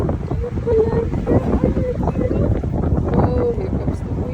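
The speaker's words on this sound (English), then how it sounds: "Oh, here comes the wind. Here comes the wind. Very windy here." Strong wind buffets the microphone in low, rumbling gusts at Ed Z'Berg Sugar Pine Point State Park, California, with a voice speaking over the roar and a faint whine, likely a drone, now and then.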